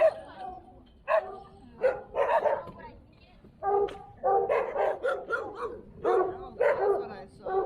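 Several dogs bark and yip in quick, uneven bursts, fairly close, with some whimpering mixed in and no clear speech.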